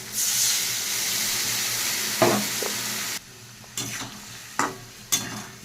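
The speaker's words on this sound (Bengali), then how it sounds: "ভালো করে কষিয়ে নেব।" Chopped tomato and a soaked paste of chili, cumin and turmeric fry in a hot pan. A loud, continuous sizzle drops to a quieter hiss, broken by a few sharp spatula scrapes and stirs.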